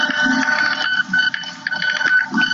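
An industrial thermal transfer printer prints labels with a steady electronic whine, broken by short pauses and changes in pitch, heard close up with no talking.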